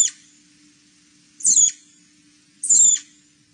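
Recorded rodent squeals from the treetops of a nut-bearing oak and hickory woodland, three short, raspy, bird-like calls spaced evenly over a faint steady hum.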